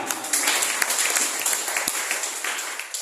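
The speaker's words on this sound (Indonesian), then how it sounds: "Tepuk tangan untuk Tuhan" A church congregation applauding loudly and continuously during worship, dense clapping that fills the whole stretch.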